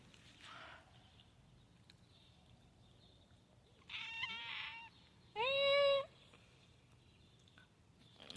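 Cat meowing on a date palm farm: two separate meows, the first a rough, noisy cry and the second a clearer rising-and-falling call, both fairly close over a quiet outdoor background.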